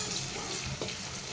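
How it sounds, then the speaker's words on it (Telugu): Ginger garlic paste frying in hot oil for a dried prawn and broad bean curry, a steady close sizzle with a faint stir in the middle, brief and without speech. "అల్లం వెల్లుల్లి పేస్ట్ మంచిగా పచ్చివాసన పోయేదాకా వేయించుకుందాం."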